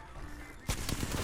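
Burst of rapid video-game gunfire breaking in after a quieter stretch, a run of loud repeated shots from an online squad shooter with sniping, fairly close and continuing to the end.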